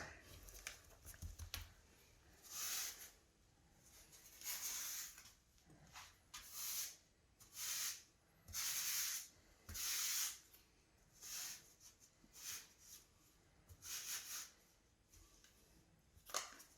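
Grout pressed by hand into the gaps between floor tiles, giving a series of short wet scraping and squishing strokes in an uneven rhythm, close and moderately quiet, with no talking.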